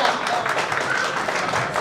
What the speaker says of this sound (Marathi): सर्वांनी टाळ्याच्या गजरात स्वागत करायचं आहे.